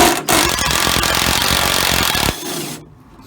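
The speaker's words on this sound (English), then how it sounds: "I'm gonna use my cordless impact." A cordless impact wrench hammers loose rusty tailgate hinge bolts on a Chevy Silverado or GMC Sierra pickup, a close, loud, sustained rattling buzz of about two seconds that cuts off and leaves a brief fading whir.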